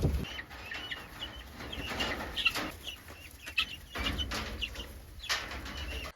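Guinea fowl huddle together in a corner of a farm coop, giving faint, scattered clucks and chatter over a soft steady background hiss, with no voices.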